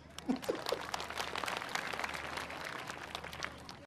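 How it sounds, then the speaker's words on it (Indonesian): Applause from an audience at a religious talk, starting with a few scattered claps and swelling into a fairly faint, steady crowd clapping that runs to the end. "Tepuk tangan dong."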